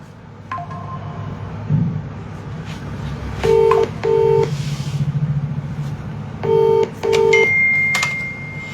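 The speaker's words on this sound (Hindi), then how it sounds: "नंबर सही मिलाया मैंने।" A mobile phone keypad sounds two pairs of short dual-tone dialing beeps against quiet room noise, followed by a longer steady tone near the end.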